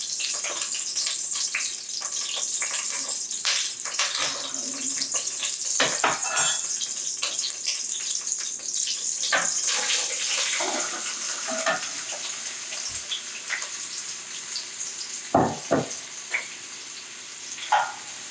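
Chopped onions sizzle in a hot pot for Cajun jambalaya, a steady crackling hiss with stirring clinks and scrapes of a utensil against the pot, close and alone.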